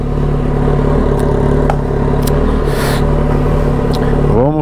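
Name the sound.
Kawasaki ZX-14 motorcycle engine with Atalla stainless exhaust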